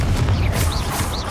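Confringo fire spell cast in Hogwarts Legacy, heard as a couple of short whooshing bursts over a low rumbling bed of game sound, fairly loud and quick.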